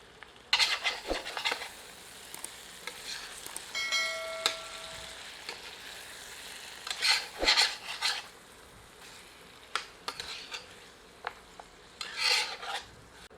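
Masala for a light spicy mutton jhol (goat curry) roasting in a pan, with soft frying sizzle under repeated scraping and rasping stirs against the pan, in bursts spread over several seconds; no talking.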